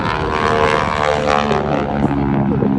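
Propeller airplane performing inverted flight at an airshow, its engine droning loud and steady throughout with a constant buzzing tone and no pauses.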